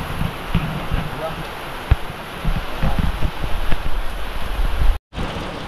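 Heavy rain pours down on a house that is leaking and letting water inside, a loud continuous hiss with a few sharper knocks and drips, and a brief dropout near the end.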